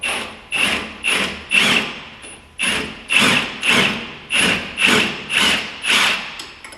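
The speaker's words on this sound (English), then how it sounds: "just grab the wrench and pry it out" Loud, close metallic knocks from a wrench working a bolt loose on a car, about a dozen evenly spaced hits at roughly two per second, with no voices.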